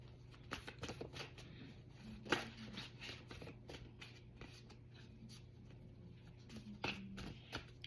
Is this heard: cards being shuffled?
yes